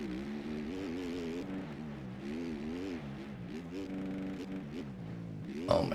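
Motocross bike engine in the MX Bikes racing game with stock suspension, a steady buzzing drone that rises and falls as the throttle opens and eases off, continuous and close, ending in a brief sharp burst.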